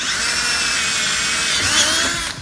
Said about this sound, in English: I'm just drilling holes with a drill.